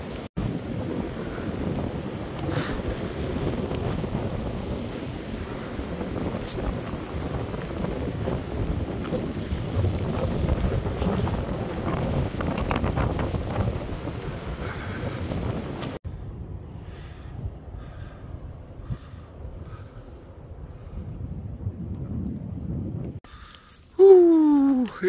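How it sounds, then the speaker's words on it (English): Strong, cold wind on the Appalachian Trail near Clingmans Dome buffets the microphone in a loud, continuous roar for about sixteen seconds, then eases to a quieter rush before a brief closing burst. "The wind is ferocious."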